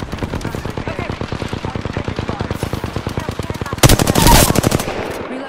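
Rapid automatic gunfire in a video game rattles on as a dense, continuous stream of shots, then swells into a louder, harsher burst near the end.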